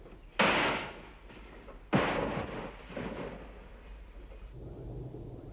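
Mortar fire in a jungle warfare setting sounds as two heavy booms about a second and a half apart, each with a sharp onset and a rumbling decay, heard from a moderate distance over background noise.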